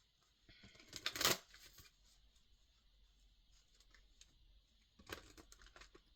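Oracle cards being shuffled by hand, a quick crisp riffle burst near the start, quiet fiddling, then a second shorter flurry of card rustling, all close and fairly soft.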